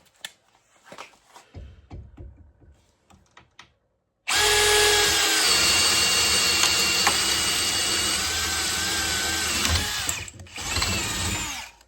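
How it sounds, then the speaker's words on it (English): A DeWalt DCD803 cordless drill in speed 1 bores a hole over an inch wide, starting after a few soft handling knocks, then whirring loud and steady for about six seconds before it slows. "if you got to drill any holes over 1 inch in diameter, you're gonna have to kick it into speed 1 with this thing"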